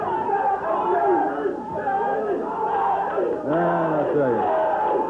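Wrestling crowd at a USWA event chanting Jerry for Jerry Lawler, a loud rhythmic mass of voices filling the arena while a commentator speaks over it.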